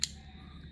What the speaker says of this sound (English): It has the satisfying click to it while closing